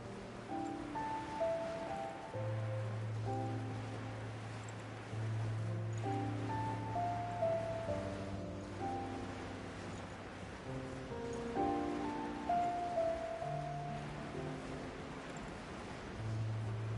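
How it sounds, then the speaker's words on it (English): Waterfall in the Genshin Impact video game: a steady broadband rush of falling water heard alongside soft background game music, with no talk. "Oh, there's a waterfall there."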